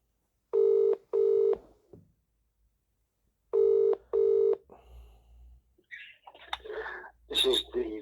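A phone call to a council legal department: two pairs of loud, evenly spaced electronic ring tones separated by silence, followed by a click and a voice answering on the line.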